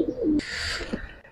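Pigeons in a fancy pigeon loft give a short low coo and then a brief burst of higher airy sound, with no talking.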